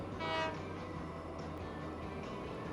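A locomotive horn sounds in the Transport Fever 2 game, a sustained tonal blast that swells early and then holds steady over low rumbling train noise, with no talking.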